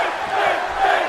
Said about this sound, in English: Crowd now chanting for Finn